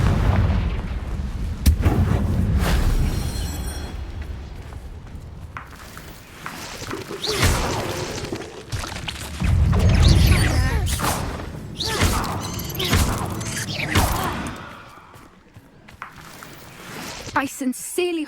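Spell explosions go off in the video game Hogwarts Legacy, including blasts from Bombarda and Confringo: repeated deep booms and thuds layered with game music and battle noise, loud and continuous, with some voices in the mix.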